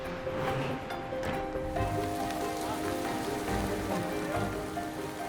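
Heavy driving rain pours steadily onto a house construction site, a dense continuous hiss with low rumbling gusts, loud and close throughout with no pauses.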